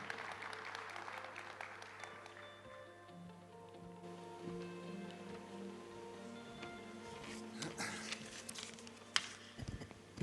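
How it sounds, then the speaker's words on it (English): Audience applause fills a conference hall at an Africa Gulf Cooperation Dialogue opening ceremony, a quiet, sustained patter of many hands clapping at a distance, with musical tones sounding faintly underneath. "Let's give him a round of applause"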